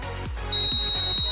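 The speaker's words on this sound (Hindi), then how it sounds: "आप सुन सकते हैं फ्रेंड कि यहाँ पर बजर बज रही है" A homemade cardboard multimeter tester's buzzer sounds a steady high electronic tone that starts abruptly and holds, alongside a few low rhythmic thumps.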